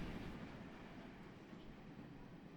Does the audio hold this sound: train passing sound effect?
yes